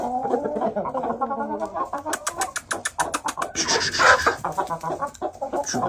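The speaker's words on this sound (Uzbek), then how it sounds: "Beşte tovuq, ikkita xo'roz, xudo xolasa." Hens and roosters of the Shamo breed cluck and squawk close by in a noisy pen, with rapid rhythmic clucking bursts and a louder flurry of scratchy calls, no talking.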